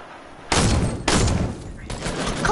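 Shotgun blasts in a video game: three loud, sharp booms spaced unevenly, each followed by a short ringing tail.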